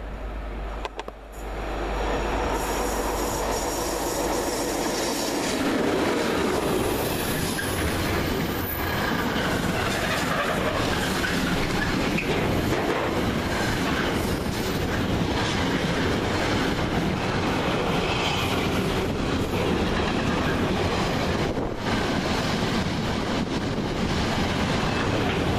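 A Class 92 electric locomotive hauls a Felixstowe to Trafford Park freight train past a station at Sandbach, a loud, sustained roll of wagons with rhythmic wheel clatter and occasional squeal that continues for the whole passage.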